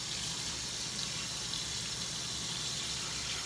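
Water runs steadily from a tap for rinsing hair, a faint, even hiss with no break and no voices.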